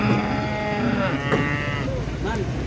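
Large Limousin cattle moo loudly and close by while being unloaded from a truck, drawn-out lowing calls overlapping one another with some background noise.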